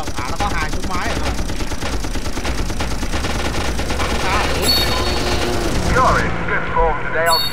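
Rapid bursts of machine gun fire in the video game Battle of Euro rattle on continuously, loud and close, with someone talking over the shooting.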